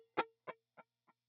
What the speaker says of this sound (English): Next, I have an eighth note delay.